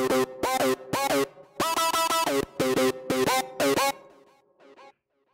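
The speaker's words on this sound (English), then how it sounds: "I made my own patch with the hard sync on here, and I had our arpeggiator on here" A bright, buzzy hard-sync synth patch from the Caustic modular synth plays a rapid arpeggiated pattern in short repeated bursts, then fades out with a faint tail.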